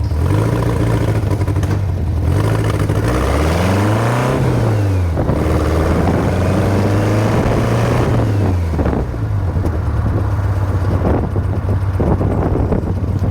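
A VW sand rail's engine revs loudly and close, its pitch rising and dropping repeatedly as gears shift, with wind buffeting and mechanical clatter underneath.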